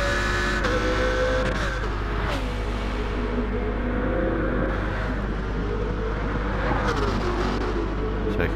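GR2-class race cars in Gran Turismo 7 roar loudly and continuously, engines whining and shifting pitch as cars close in and pass, with rising and falling revs over a dense mechanical drone.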